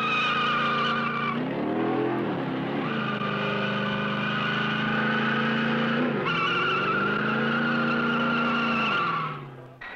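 A 1966 Chevrolet strains through a rock-cycle torture test of its transmission and drive components, giving a loud, sustained whining engine and drivetrain tone that rises, dips and surges before cutting off near the end.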